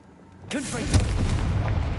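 A Confringo fire spell in Hogwarts Legacy bursts with a sudden loud blast, followed by a sustained rumbling roar and crackle that fills the rest of the moment.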